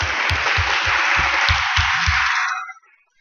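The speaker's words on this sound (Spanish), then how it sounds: "Le damos un aplauso, por favor." Audience applause at a national forum of information professionals, a steady dense wash of clapping lasting about two and a half seconds before stopping abruptly, with low rhythmic thumps running beneath it.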